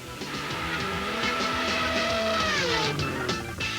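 A Matra V12 racing car engine screams in the rain at a historic Grand Prix, its tone rising and falling through the gears as the car passes close and loud.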